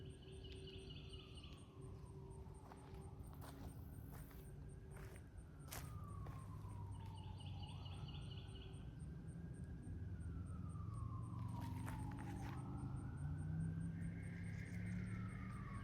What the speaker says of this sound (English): that's the third time I heard a siren go off